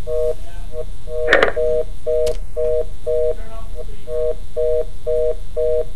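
A telephone gives off a loud, steady string of short, evenly spaced electronic beeps, interrupted once by a brief burst of noise, with no clear talking over it.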